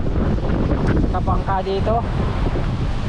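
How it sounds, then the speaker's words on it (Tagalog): Strong wind gusting across a boat out on the water during a typhoon, a steady loud rush filling the whole clip while someone talks over it. "Woo, grabe ang hangin."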